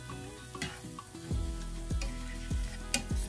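Smoked sausage and potatoes sizzle steadily in a pan while being stirred, with a constant frying hiss and several scraping strokes of the utensil, close and moderately quiet.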